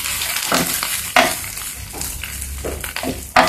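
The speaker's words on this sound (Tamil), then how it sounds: "இது வெங்காயம் லைட்டாக ஃப்ரை ஆனால் போதும்" Onion frying lightly in a pan for spicy peanut chutney, a steady sizzle with spatula stirring and scraping strokes, close and fairly loud, with sharper clatters near the start and end.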